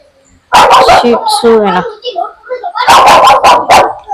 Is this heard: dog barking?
yes